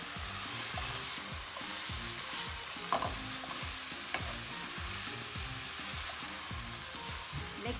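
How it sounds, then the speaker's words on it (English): Gobi Manchurian cauliflower florets tossed in ketchup sauce sizzle in a pan over a high flame, with steady frying hiss and repeated scraping stirs, plus a couple of sharper clanks near the start. "Mix it on high, keep cooking on high flame. Do not reduce the flame."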